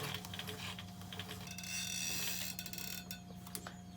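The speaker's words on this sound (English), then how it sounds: "I'm just going to sew a little bit." Sewing machine stitching cotton fabric for a scrubs hat gives a quiet, steady mechanical whir with light rhythmic clicking from the needle, close by and without any talking.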